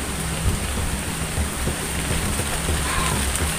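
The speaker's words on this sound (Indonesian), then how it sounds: "Karena memang cuaca juga hujan ya." Steady rain falls in a continuous hiss outdoors, with faint low rumbles underneath and no voices.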